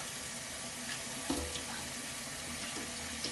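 Tap water runs steadily into a sink as a small red onion and half a white onion are rinsed underneath, a faint, even splash with a couple of brief knocks and no talking.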